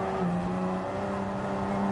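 Honda NSX GT500 race car in Gran Turismo 7 on the Spa 24-hour layout, engine holding a steady high drone with faint gear whine, loud and continuous throughout with no talk.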